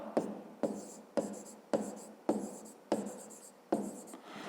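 A pen writes by hand on paper during a 5th-grade maths exercise, about eight short scratchy strokes in a regular rhythm, each a crisp attack that fades, close and alone.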